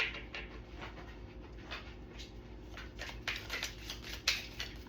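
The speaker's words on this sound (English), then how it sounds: "My dog is acting like she has no food in her bowl in the kitchen." A dog scrounges around a kitchen for food, with quiet close sniffing, panting and scattered clicks and rustles over a faint low hum.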